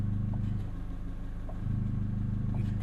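An Abarth 595 Competizione in Modena Yellow idles with its exhaust in sport mode and the active valve open, giving a steady, loud, close burble with a slight step up in level partway through and a few faint clicks.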